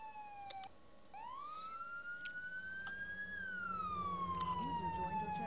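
An ambulance siren wails in a steady rising and falling tone, growing slightly louder as it nears, over background noise and faint talk.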